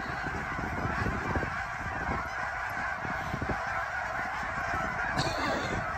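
Huge flock of geese honking loudly and continuously as a Doberman chases them, many overlapping calls at close range with no talk.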